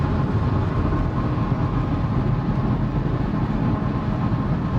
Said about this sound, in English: Oh, what a long train.